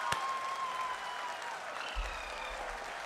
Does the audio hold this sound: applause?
yes